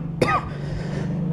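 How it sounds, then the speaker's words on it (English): A single short, sharp cough from a person, close to the microphone, followed by a quiet low background hum. "my cough is still on"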